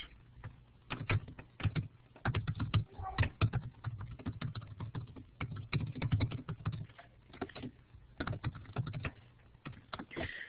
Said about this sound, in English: I'll type it in right now